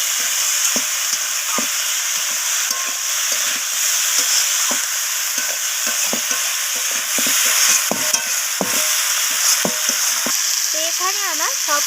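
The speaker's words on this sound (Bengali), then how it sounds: "তো ধনিয়া পাতাটা দেওয়ার পর আমি আবারও এইভাবে কষিয়ে নিচ্ছি।" Rohu fish curry with coriander leaves sautéing in a pan, a steady loud sizzle with frequent scraping stirs of the spatula throughout, no voices.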